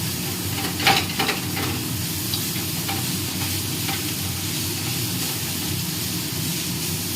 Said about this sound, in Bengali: দেখো ছোলা শাক পুরোটাই ভাজা ভাজা হয়ে গেছে